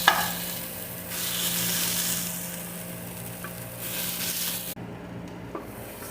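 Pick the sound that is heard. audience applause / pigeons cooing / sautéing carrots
sautéing carrots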